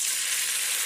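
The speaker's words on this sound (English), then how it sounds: "Nice sizzle. That's what you want." A pork chop sizzling in hot olive oil in a pan, a loud steady hiss of frying, close and continuous with no voices.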